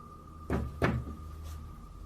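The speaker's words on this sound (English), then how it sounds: "And the knocking gets louder." Two loud, hollow knocks land close together on a door or wooden surface, followed by a fainter third tap, over a low steady hum in a quiet room.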